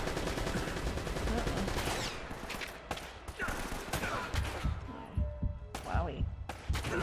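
Gunfire in Uncharted: Drake's Fortune, a dense stream of shots and bursts running under game music and effects, steady and loud throughout with sharper cracks near the end.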